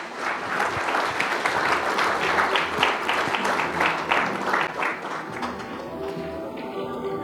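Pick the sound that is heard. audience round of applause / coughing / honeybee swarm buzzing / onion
audience round of applause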